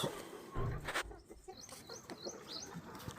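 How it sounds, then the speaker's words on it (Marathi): Farm chickens clucking and chirping softly at a distance in an open yard, brief scattered calls over faint outdoor background noise. "गाईस तर बघू शकतात आपण कोंबड्या सांभाळतो."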